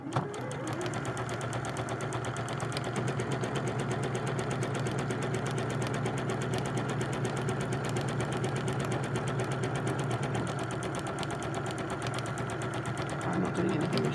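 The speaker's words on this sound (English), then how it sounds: "now this machine will do a buttonhole by itself where I want it to" Sewing machine stitching a buttonhole on its own, a steady close mechanical whirr with fast even needle clatter running unbroken throughout.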